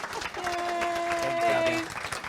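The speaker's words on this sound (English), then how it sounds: "I think we should all give her a round of applause because it's pretty cool" Audience applause at a workshop, steady clapping filling the room with a sustained tone from a voice or instrument running through the middle.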